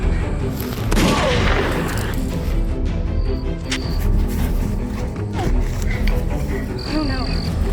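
Gunfire bursts in a tense film scene, rapid shots and booms layered under shouting voices and dense action noise throughout.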